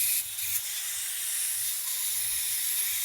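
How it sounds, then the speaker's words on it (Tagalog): A paint spray gun fed by an air compressor lays down a marble-effect finish, giving a steady, loud airy hiss throughout, with a low compressor rumble pulsing underneath. "spray ng kulay."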